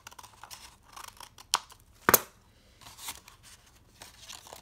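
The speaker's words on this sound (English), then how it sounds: "cut off the excess paper on one side and cut off the excess paper on the other side" Scissors snip away excess paper from a handmade paper teepee craft, a few separate close crisp cuts and rustles, with one louder sharp snip standing out among quieter paper handling sounds.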